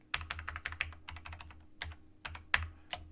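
Rapid computer keyboard key presses while adjusting a monogram design, a close series of sharp clicks in irregular bursts with brief pauses, no talking.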